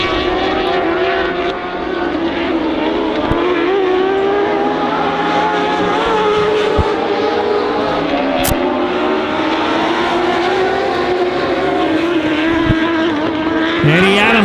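Race cars at Honor Speedway, a mix of sport mods, dwarf cars, sport compacts and stock cars, roar continuously past, with engine pitches rising and falling as the pack circles the track at loud, sustained volume.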